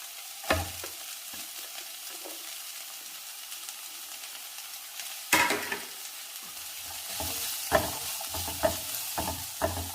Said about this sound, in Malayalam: അതിലേക്ക് അരിഞ്ഞു വെച്ചിരിക്കുന്ന സവാള ചേർക്കാം.